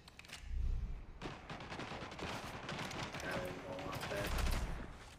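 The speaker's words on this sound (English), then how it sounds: "Launching swarm grenade." A swarm grenade launched in the shooter Spectre Divide, heard among loud, rapid gunfire and deep thumping booms near the start and end, with a dense layer of battle noise and a voice talking over it.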